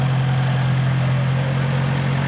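A 4WD vehicle's engine idles on a dirt bush track, a loud steady low rumble with a constant droning hum and no change in revs throughout.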